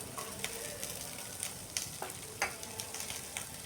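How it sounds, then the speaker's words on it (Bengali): Chunks of onion, ginger and green chili crackle in hot oil, with a quiet, even sizzle broken by a few sharper pops and spatters over a few seconds. No speech. "তেলটা খুব ভালোভাবে গরম হয়ে যাওয়ার পর এখানে বড় বড় করে কেটে রাখা পেঁয়াজ দিয়ে দিচ্ছি, আর পেঁয়াজের সাথে দিয়ে দিচ্ছি আদা, আর দিচ্ছি কাঁচা লঙ্কা"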